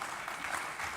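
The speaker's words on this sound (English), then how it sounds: "I think we should clap for them" A summit audience applauds steadily and densely for the participants. The clapping is continuous and fairly even throughout, with no voices standing out.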